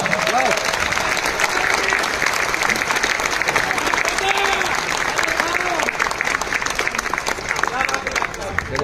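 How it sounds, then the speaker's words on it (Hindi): An audience applauds team members at a health talk by a cardiovascular surgeon, sustained dense clapping from a crowd lasting several seconds, with voices murmuring underneath. "आप लोग उन लोगों के लिए तालियां बजा सकते हैं"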